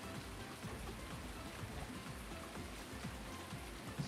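Steady rain falls in Farming Simulator 19, a faint, even hiss of drops on surfaces with no voices, holding at the same level throughout.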